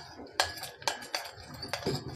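Spoon clinking against a dish while whole spices, dried chillies and a peeled black cardamom are stirred into oil for shahi paneer, about four sharp metallic taps in a slow uneven rhythm, close and fairly quiet.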